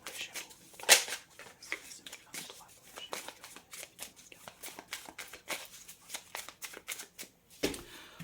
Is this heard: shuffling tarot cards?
yes